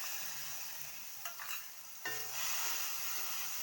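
A spice paste of turmeric, chili powder and water goes into already-fried spices in a pan for an egg and potato curry. It hisses in a steady sizzle, broken by a couple of brief scraping stirs, and no one speaks.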